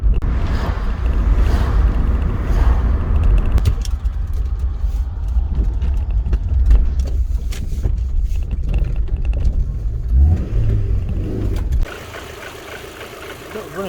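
Car with a Rover K-series engine running poorly while driving: a continuous low engine drone with road rumble and a rough, uneven note, steady throughout before dropping in level near the end.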